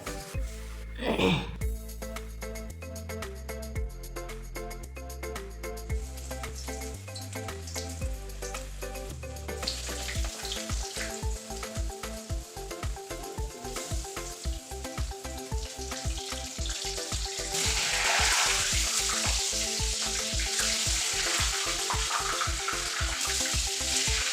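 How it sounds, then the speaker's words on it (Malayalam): Puris frying in hot oil, a loud continuous sizzle with bubbling bursts that swells as dough goes in, under a rhythmic pulsing background. "ഞാൻ ഇങ്ങനെ പേടിച്ച് ഇങ്ങനെ വിട്ട് നിന്നിട്ടാണ് ഞാൻ പൂരി പൊരിക്കുന്നത്"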